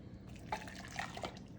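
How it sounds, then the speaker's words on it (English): A cup of boiling water pours into a bowl of cranberry Jell-O powder, making a soft, faint liquid trickle with a few light drips and splashes, close by and quiet, with no talking. "we're gonna add 1 cup of boiling water"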